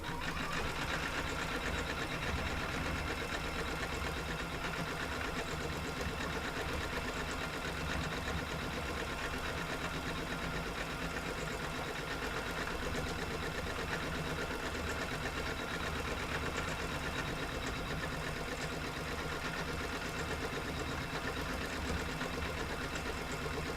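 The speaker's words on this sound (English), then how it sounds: "start my stitching" A sewing machine stitches steadily and close by, a continuous rapid mechanical whirring and clatter that holds an even rhythm throughout, with no talking.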